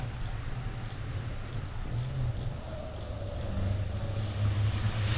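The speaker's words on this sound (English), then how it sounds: "tries to get to turn one before Lasko, but the Czech's Freightliner defends the position" Racing trucks, including a Freightliner, during an FIA ETRC truck race at Misano circuit, a steady loud engine roar with low rumble throughout and a brief air-brake-like hiss, no talking.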